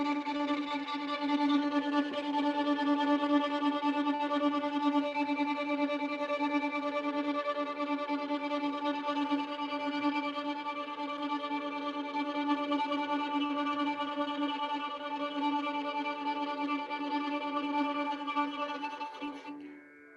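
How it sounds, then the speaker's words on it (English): Fiddle tremolo played with light, rapid little strokes at the tip of the bow, a sustained, bright, shimmering tone held evenly for about twenty seconds before stopping abruptly, with no talking. "Let's do a tremolo bow, light little bows at the tip of the bow."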